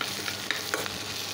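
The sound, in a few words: fish oil chorchori with eggplant frying and stirred in pan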